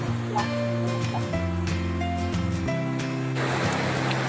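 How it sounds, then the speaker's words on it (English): A fairly big river rushes over stones at a campsite in Sulby Claddaghs on the Isle of Man, a steady close roar of water that persists throughout, with a droning hum layered on top. "the river's quite big at the minute"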